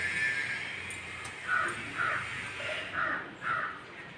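Crows cawing repeatedly in short, spaced calls, moderately distant, with no other prominent sounds.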